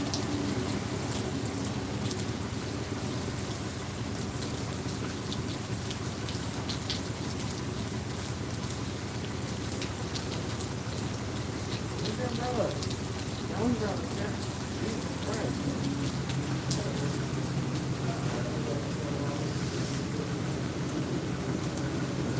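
Steady rain falls outside with constant hiss and patter throughout, and faint voices murmur underneath.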